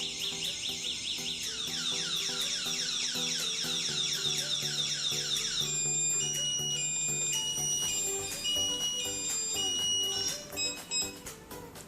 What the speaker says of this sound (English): anyone fiddling with the bike would simply activate the alarm sensor.